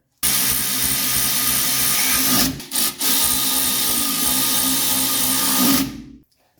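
A small power driver runs steadily while snugging small bolts on the front brake assembly of a 1985 wagon, a loud close whir with a brief stutter midway before it stops.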